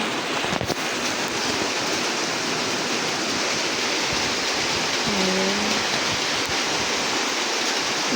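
Morning rain falls steadily outside, a dense, even hiss of rainfall, moderately loud, with a brief knock near the start and a faint tonal hum midway.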